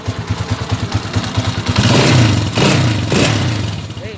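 A Honda TMX155 motorcycle engine with a newly replaced timing gear runs close by, idling with a quick, even chugging pulse, then revving into a louder, rougher roar before easing back down.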